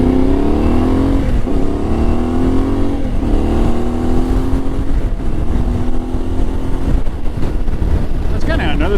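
An Ibex 450 motorcycle with an aftermarket muffler roars loudly and close, its engine pitch rising and dropping repeatedly through gear changes as it accelerates on a commute, with a rider's voice partly audible.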